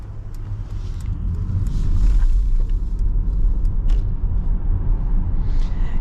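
A 2022 Mercedes-Benz EQS electric car moves in sport mode, a low steady road rumble inside the cabin with faint creaks and small interior rattles and no engine note.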